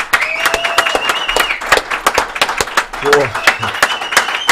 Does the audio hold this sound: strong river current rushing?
no